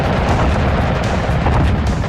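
Bomb from an SBD dive bomber exploding near the Japanese carrier Ryuho in wartime combat, a loud sustained roaring blast filling the whole moment with dense rumbling noise.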